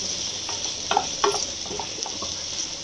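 Chicken liver fry being stirred with chili powder in a pan makes a quiet, steady sizzle under a few soft scraping strokes of a spoon, brief and close, with no voices.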